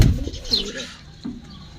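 A few low throaty coos come from domestic native-breed pigeons at home, a soft call near the start and another shortly after, fairly close with quiet background in between.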